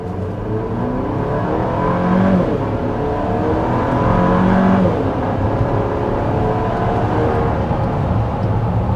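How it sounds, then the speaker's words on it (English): A 2024 Chevy Traverse RS SUV engine accelerating steadily from a complete stop, slightly downhill, the revving pitch climbing in stages as it gains speed, loud and close throughout. "that was an acceleration from a complete stop, going a bit downhill"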